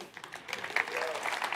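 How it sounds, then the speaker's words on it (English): Brief burst of audience applause for a speaker at a developer conference, scattered claps building into steady clapping with a faint voice underneath. "if we can get a nice round of applause for him coming up here"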